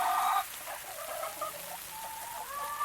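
A backyard hen gives a few short, soft clucks at close range, separated by brief pauses, with faint background noise underneath.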